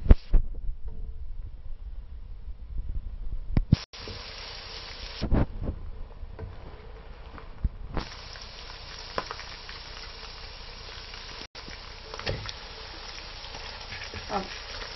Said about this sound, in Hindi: अब साथ ही हम गर्दने भी फ्राई कर लेते हैं चिकन की।